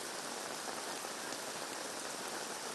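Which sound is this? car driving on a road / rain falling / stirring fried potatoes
rain falling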